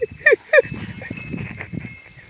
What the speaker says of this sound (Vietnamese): Con bò đó.